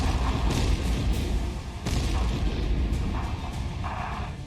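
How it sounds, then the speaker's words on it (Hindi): A sustained, heavy rumbling blast as a military post is blown up, with deep low-end roar and debris-like crackle, loud and continuous throughout. "दस मई को किया गया यह धमाका पाकिस्तान की किस कायरता का बदला है"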